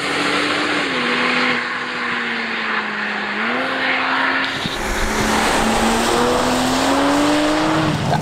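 AC Schnitzer-tuned Toyota GR Supra sports car, about 400 hp, driving with a steady loud engine note that rises through gears, with a shift dip near the middle and a continuous tyre and wind roar, no talking.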